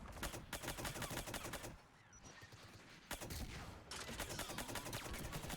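Rapid sustained automatic turret gunfire from the video game Mass Effect, dense and continuous, broken by a brief lull in the middle before the firing resumes.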